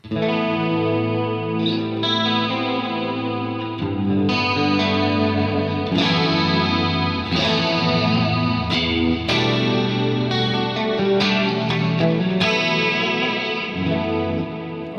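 Clean electric guitar tone run through a Fractal studio compressor for the MF Rectifier preset, sustained chords and notes with chorus-like shimmer and echo, steady and fairly loud, with no talking over it.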